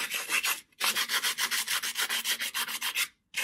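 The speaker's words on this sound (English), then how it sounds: "the way I'm going to do that is with the old sandpaper, 180 grit" Close, steady back-and-forth rasping of 180-grit sandpaper rubbed by hand on a motorcycle handlebar, with rapid regular strokes that pause briefly twice and carry no talk.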